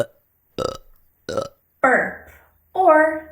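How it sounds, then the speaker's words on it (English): Several burps, a short sequence of four separate belches of varying length with silent gaps between, loud and close, some deep and drawn out, others short and abrupt, with no talking over them. "Burp or belch. To burp, to belch. A burp, a belch."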